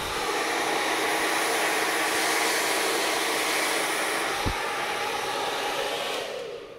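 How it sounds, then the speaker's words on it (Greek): Hair dryer blowing over a round brush while straightening hair, a loud continuous whoosh with one brief click partway through, fading out at the end. "τοποθετώ τη βούρτσα στη ρίζα, το πιστολάκι από πάνω και κατεβαίνω"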